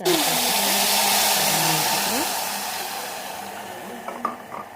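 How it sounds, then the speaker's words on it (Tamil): Garlic sautés in tempered oil for a garlic kuzhambu, a loud hissing sizzle at the start that gradually fades and softens, with a few light utensil taps near the end. "அந்த எண்ணெயிலே கொஞ்சம் நேரம் பூண்டு வதங்கட்டும்"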